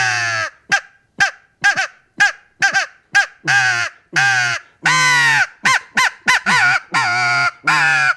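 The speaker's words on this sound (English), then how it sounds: "It's a little crow call" A Heckler crow call with a walnut barrel is blown in a string of loud, close, nasal caws, short clipped notes at first, then longer drawn-out calls with brief gaps between them.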